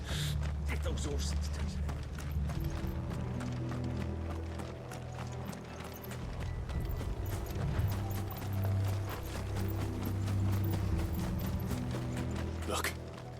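Horses gallop in Final Fantasy XVI, a steady rapid clip-clop of hooves running throughout under game music and effects, with characters speaking over parts of it.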